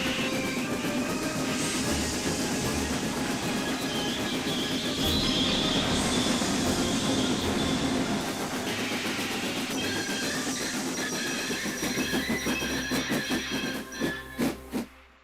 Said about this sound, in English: And it pushed and puffed and pushed and puffed as hard as it ever could.